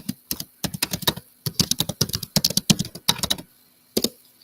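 Typing on a computer keyboard: quick, close, uneven runs of key clicks in short bursts with brief pauses, heard alone without talk.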